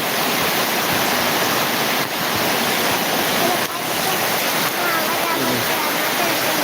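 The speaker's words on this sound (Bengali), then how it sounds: "আজকে আমাদের ভোলাতে প্রচুর বৃষ্টি হচ্ছে এবং বন্যা হইতেছে" Heavy, steady rushing of water fills the whole clip, a dense roar of pouring rain and fast-flowing floodwater in Bhola, Bangladesh, close and constant.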